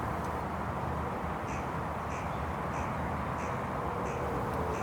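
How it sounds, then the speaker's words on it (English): Crows near bait on the ground give repeated harsh caws at a fairly regular pace, moderately distant, over a steady wind-like background hiss. "we already have a crow on the ground and interested, which was quickly joined by its mate"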